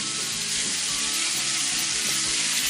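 Bear meat sears in a hot pan, a loud, dense, continuous sizzle and crackle close up with faint stirring, and no voices over it.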